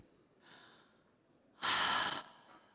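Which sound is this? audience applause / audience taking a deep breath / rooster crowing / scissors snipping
audience taking a deep breath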